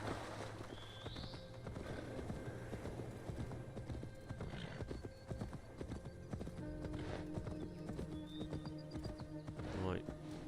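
Horse hooves clip-clopping in the Assassin's Creed Wrath of the Druids game, a steady rhythmic trot with a whinny, ambient in-game sounds and a faint Irish chant in the background.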